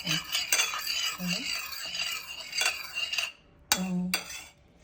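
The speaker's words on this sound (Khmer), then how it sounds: "ពេលយើងឆាណាយើងឆាយើងដាក់សោសទាំងអស់ហ្នឹង" Egg noodles are stir-fried in a pan with sauces and beaten eggs. Utensils scrape and clink against the pan in irregular bursts, close up, with a brief quiet gap before a final few sharp knocks.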